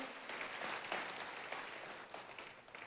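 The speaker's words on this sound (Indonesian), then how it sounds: "Tepuk tangannya yang paling meriah buat Tuhan kita." Applause from a church congregation at a worship service in Indonesia, a dense, sustained clapping wash that is heard alone throughout and stays fairly distant and soft.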